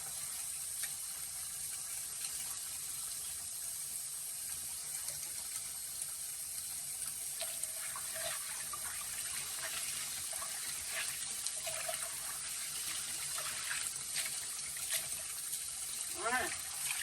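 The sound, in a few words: tap water running while rinsing greens in sink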